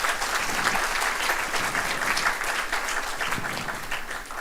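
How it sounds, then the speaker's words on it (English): A university convocation audience in Dubai breaks into a big round of applause, continuous dense clapping filling the hall at an even, loud level. "big round of applause to everybody present here."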